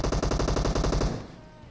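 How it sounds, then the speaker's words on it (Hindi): Rapid automatic gunfire in PUBG Mobile, a burst of about twenty close, loud, evenly spaced shots lasting just over a second, then a short fading echo. "मेरे को फायरिंग की साउंड आई है सामने वाले घर में से"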